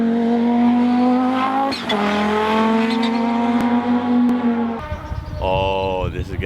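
Audi IMSA GTO race car with a turbocharged inline-five engine holds a loud, steady high-pitched rev, then drops off and is followed by a rising whine, with a voice talking over part of it.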